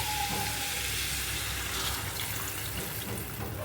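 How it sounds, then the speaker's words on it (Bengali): Water pours into a pan of egg curry with potato and papaya, giving a steady broadband rush with a light sizzle underneath that holds for the whole few seconds, close and fairly loud, with no talking. "এবারে জল দিয়ে দেবো।"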